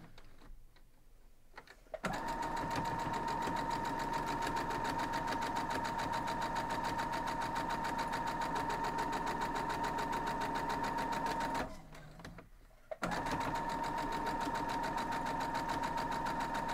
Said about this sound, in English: Now we're going to go sew that down.